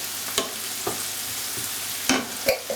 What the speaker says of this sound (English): I've pasted the ginger and the garlic and some chilies in there, so I'm just going to add those once.